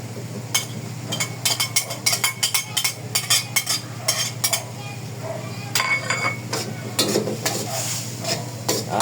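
Shredded dried fish (daing) tipped into a pan for Filipino ginataang laing and stirred, giving a run of scraping, clinking utensil strokes over a steady low hum, with no talking.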